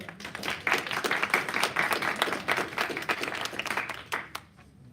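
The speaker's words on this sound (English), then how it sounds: "I'd like you to join me in a round of applause for Professor Marlene Norel" A conference audience at a workshop on Russia's role in the Middle East applauds a professor, with a brisk run of individual claps from a modest crowd that thins out near the end.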